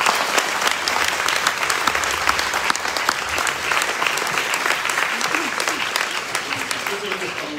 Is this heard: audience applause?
yes